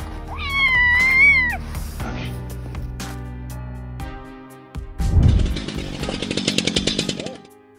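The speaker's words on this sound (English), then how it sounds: "These three cats were so unlucky that their tails were frozen." Cats with frozen tails meow in a loud, drawn-out wavering cry near the start, followed by tonal ringing and then a harsh, raspy burst of rhythmic buzzing noise.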